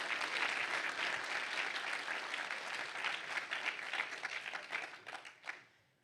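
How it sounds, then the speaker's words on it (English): A conference audience at a Rust programming event in Wellington claps in a full, sustained round that thins out near the end, individual claps showing before it fades to quiet. "Massive round of applause."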